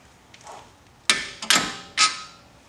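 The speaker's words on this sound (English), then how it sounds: "we're going to go ahead and tap these two bolts out" A hammer taps bolts out of a Subaru WRX/STI front axle: three sharp, loud metallic strikes, close by, with faint lighter taps before them.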